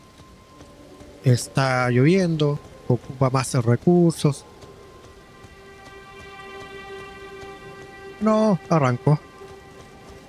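Steady rain falls in a video game, a soft continuous hiss under the whole stretch while someone talks in Spanish in two short bursts.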